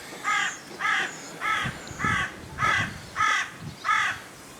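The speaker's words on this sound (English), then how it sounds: "I do not like the crow family at all, making all that noise." A crow caws seven times in a steady, evenly spaced series, each call harsh and fairly close, standing out clearly over faint outdoor garden background.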